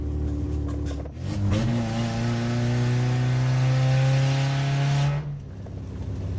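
Fiat car engine revving hard after losing its exhaust pipe, a loud rising roar that climbs and holds a strained tone for several seconds before cutting back to a lower rumble.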